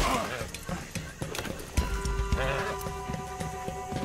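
Horse hooves clop in a steady rhythm in Red Dead Redemption 2, mixed with game sound effects and voices talking over them, with a sustained tone entering midway.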